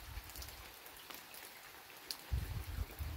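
Steady rain pattering outdoors on a garden or orchard plot, a soft continuous patter with heavier, closer drops toward the end, no talking.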